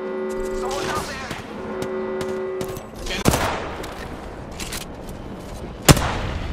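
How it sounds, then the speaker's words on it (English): Video game gunfire in Apex Legends on PS4 Pro, sharp isolated shots and short bursts ringing out over a humming game soundtrack, with loud single cracks standing out near the middle and end. "They're shooting at me!"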